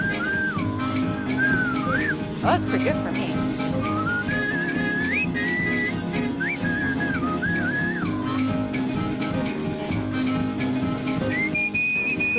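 A person whistles a wavering tune in an indoor dining area during a seniors' fitness class, clear sustained notes over steady room noise with a brief voice near the end.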